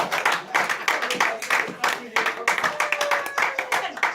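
Church congregation clapping in acclaim of God during a Friday night prayer vigil, rapid uneven handclaps from many people across the room, with voices mixed in beneath the applause.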